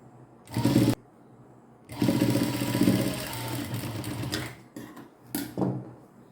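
A sewing machine stitching elastic into the waistband of a pair of pants, running in close, loud bursts of rapid mechanical whirring, with a short burst, a long run of about two and a half seconds, then brief spurts separated by pauses.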